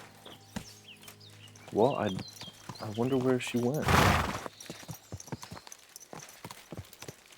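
In the video game Kingdom Come Deliverance 2, horse hooves clip-clop in a steady rhythm alongside birdsong and a brief sharp burst of noise, with voices speaking over it.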